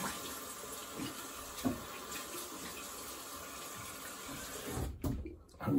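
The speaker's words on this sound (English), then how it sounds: "I'm rinsing cold water." A cold tap runs into a sink to rinse a straight razor, a quiet steady hiss of flowing water that swells briefly near the end, no talking.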